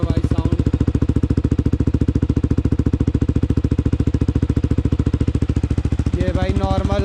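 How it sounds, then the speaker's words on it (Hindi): A motorcycle with a raw, loud exhaust, thumping in a fast even firing rhythm at close range, with a brief rise in revs near the end. "ये भाई नॉर्मल साउंड कर रही है बाइक। लाउड तो बहुत है भाई ये"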